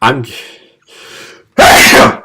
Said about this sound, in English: It made you sneeze.